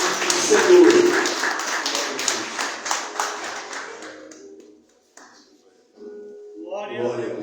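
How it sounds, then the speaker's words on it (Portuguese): Church congregation clapping in praise during a Portuguese-language service, rhythmic group hand claps with voices over them, thinning out midway, then a short quiet gap before singing or speech resumes. "Aplauda Jesus."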